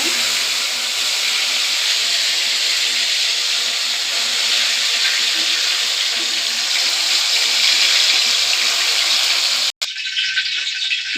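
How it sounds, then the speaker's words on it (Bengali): Okra frying in oil left over from frying potatoes, a steady loud sizzling hiss that runs continuously, with a brief cut near the end. "আলু ভাজা তেলের মধ্যে ভেন্ডিগুলো দিয়ে দিলাম।"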